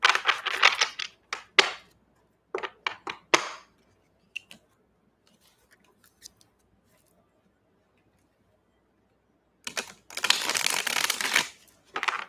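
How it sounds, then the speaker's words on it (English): Tarot cards being shuffled during a tarot reading, heard as bursts of crisp riffling and flicking near the start, a quiet pause, then another longer riffle at the end. "Couple more shuffles here."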